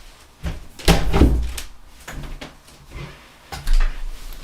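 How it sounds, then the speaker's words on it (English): A door that had drifted open in the breeze is pushed fully shut indoors, giving a solid thud with a rattling latch, then a second, softer knock a few seconds later. "just give me a second here to close the door fully."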